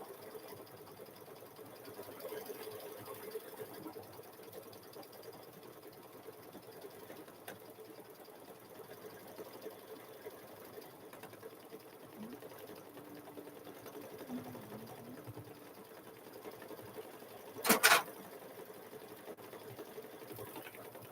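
An embroidery sewing machine stitches a chicken quilt in the hoop with a low, steady mechanical hum that is faint and even throughout, broken by one brief sharp clack near the end.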